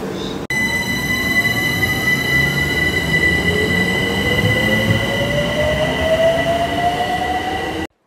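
Train wheels and wagons rolling on the rails, a steady loud rumble with sustained high metallic squealing from the wheels, close and continuous until it cuts off.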